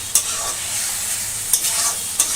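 Shrimp stir-frying in a pan for a cabbage-and-shrimp dish, a steady close sizzle broken by three sharp scrapes of a spatula stirring the pan.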